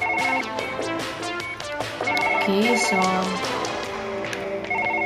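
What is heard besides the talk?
telephone ringing in Surgeon Simulator video game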